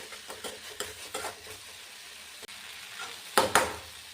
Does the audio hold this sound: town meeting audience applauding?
no